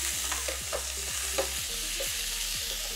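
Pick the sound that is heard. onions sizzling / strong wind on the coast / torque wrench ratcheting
onions sizzling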